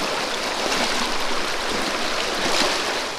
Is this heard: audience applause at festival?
no